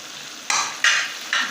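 Meat for chicken karahi sizzles in a hot pan and is stirred in three short, close bursts of scraping and hissing, with no talk.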